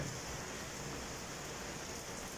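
Steady rain falling outdoors in a garden with guava shrubs and a tarpaulin in Lahore, a constant soft hiss with no distinct drops, moderately faint and continuous throughout.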